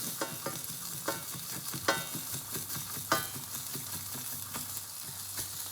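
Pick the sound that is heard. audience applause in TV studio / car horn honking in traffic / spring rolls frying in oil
spring rolls frying in oil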